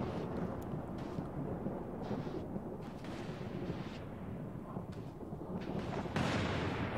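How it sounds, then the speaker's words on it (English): Thunder from lightning in the video game A Memoir Blue, heard as a continuous low rumbling roll that grows louder toward the end, with no voices over it. "Why is there lightning right now?"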